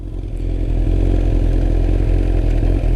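A motorcycle idling close by with a steady low engine rumble and light mechanical clatter as it comes to a stop and is shifted into neutral.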